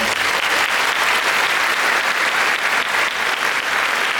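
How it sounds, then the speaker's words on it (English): Sustained, dense applause from a graduation ceremony crowd at Townsend Harris High School, steady and loud throughout with no pauses or talking. "let's give everyone a round of applause"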